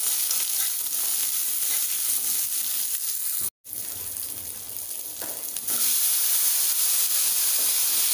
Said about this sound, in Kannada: ಒಗ್ಗರಣೆ ದೀಪುನು